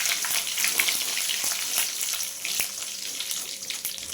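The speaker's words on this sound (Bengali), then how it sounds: "আমি কারি পাতাগুলো ভেজে তুলে নিলাম" Curry leaves fry in hot oil for a poha snack, a bright, crackling sizzle with sharp pops scattered through it, close and steady with no talking.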